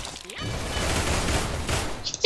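Gunfire from an online first-person shooter match in Arsenal: a dense, sustained burst of shots runs for about two seconds, loud and close, and ends in a sharp bright crack.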